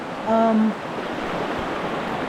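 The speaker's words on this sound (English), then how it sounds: "there's like a little waterfall here" A small waterfall pours in a river in Zion National Park, giving a steady broadband rush of water that fills the clip. A brief high tonal squeak sounds near the start over the constant churning flow.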